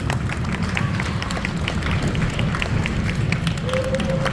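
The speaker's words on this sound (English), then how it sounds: "Can I have a big round of applause for Sagar, please?" An audience at a speech event gives a standing ovation, with dense, continuous clapping from a crowd that stays steady for a few seconds.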